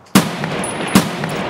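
Two sharp gunshots from a weapon in the video game Escape From Tarkov, spaced about a second apart, each loud with a quick decaying tail over faint background ambience.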